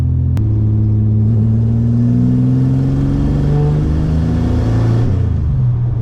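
Engine of a tuned project car fitted with an intercooler, driving on a road: a steady, loud, close drone whose pitch climbs gradually under acceleration, then eases off near the end. No talking.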